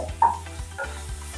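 Onions browning in a pan for a South Indian mixed vegetable palya stir-fry, stirred in a few rhythmic scrapes over a steady, close sizzle, with no voices.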